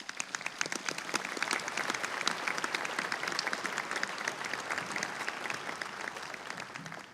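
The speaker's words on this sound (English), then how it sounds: "Let's give these students a round of applause." Applause for honored student athletes at a 2019 sports hall of fame ceremony, a dense, even patter of many hands clapping that holds steady and tapers off slightly toward the end.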